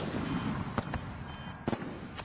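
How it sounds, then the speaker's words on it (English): Aerial firework shells fired from mortars bursting in the air, a few sharp distant booms over a steady rumbling crowd-like background, no talk. "are launched several hundred feet up in the air where they explode"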